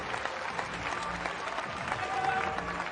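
At a women's T20 cricket match between India and Australia, a crowd applauds a bowler's four-wicket spell with sustained, even clapping mixed with a general crowd murmur.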